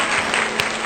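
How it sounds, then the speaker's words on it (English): Short burst of applause used as a sound effect, a dense, bright patter of many clapping hands, steady and fairly loud for under a second. "Cue in the applause"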